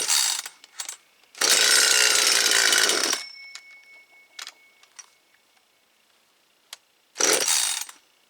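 A brand new chainsaw engine on full choke fires in short bursts, with one longer loud roaring run and a later brief burst, separated by quiet clicks and mechanical rattles.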